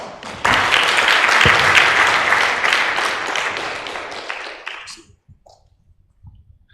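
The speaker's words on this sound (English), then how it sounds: "we can do slightly better by applauding Professor Stefan." A lawyers' gathering applauds Professor Stefan with loud, dense clapping from a full hall that swells, then thins and dies away into near silence with a few stray claps.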